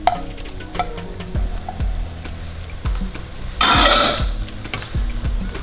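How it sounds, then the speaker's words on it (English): Shrimp drop into beef juice in a hot pan and sizzle in a short loud burst, with utensil clinks and stirring around it. "And now I'm gonna cook my shrimp in that juice"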